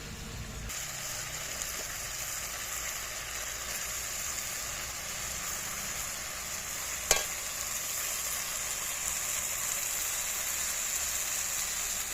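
Boiled banana flower (mocha) fries in spiced oil in a pan, giving a continuous, even sizzle with one brief sharp clatter in the middle and no talking.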